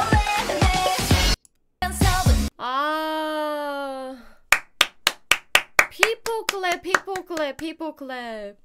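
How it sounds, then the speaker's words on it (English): A handful of sharp, separate hand claps ring out in an uneven rhythm, close and loud, following a burst of speech and a sustained sung or shouted vocal tone. "People clap."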